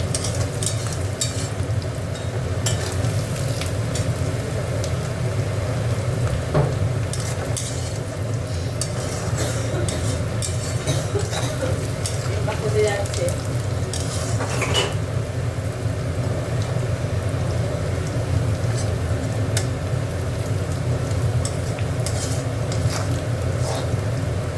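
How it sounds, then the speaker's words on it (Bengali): Garlic frying in hot oil for a dried fish curry, a continuous sizzle with scraping spatula strokes and occasional clinks against the pan, steady and close, no talking. "আর দেখো রসুন দিচ্ছি, এতে একটু রসুনটা বেশি করে দিতে হয়"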